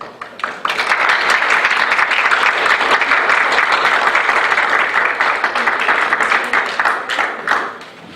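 A workshop audience breaks into loud, sustained applause that starts abruptly, holds dense clapping for several seconds, then tapers off near the end.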